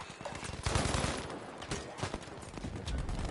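Video game gunfire includes sniper shots, heard as dense, rapid bursts of sharp cracks and shots in a busy battle mix that keeps firing throughout.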